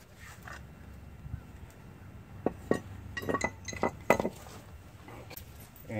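Small metal brake caliper pins on a 2001 Jeep Grand Cherokee clink and tick as they are pulled out and set down, a scattered series of sharp, close metallic taps over a quiet, cold outdoor background.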